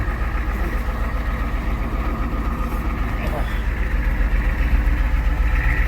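A Ford F250 pickup's engine runs steadily at a low idle in four-low while creeping around a yard, a continuous deep rumble with no spoken words over it.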